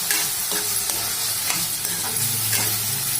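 A spoon scrapes and stirs veg fried rice with green peas in a frying pan, sizzling steadily with a few sharper knocks of utensil on metal, close and continuous with no talk.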